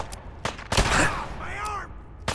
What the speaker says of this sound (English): You gotta reload the gun